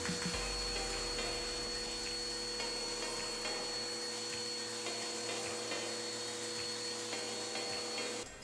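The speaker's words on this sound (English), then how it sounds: "Once you've completed one step, you'll want to vacuum." A vacuum cleaner runs continuously at close range with a steady whine and hum as carpeted stair treads are cleaned, holding a constant drone throughout without speech.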